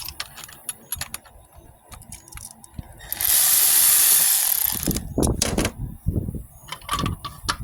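A ratchet works loose a bolt on the valve cover of a 2000 Grand Am 3.4L engine, with scattered mechanical clicks, a loud sustained hissing burst in the middle, then knocks and rattles of parts being handled nearby.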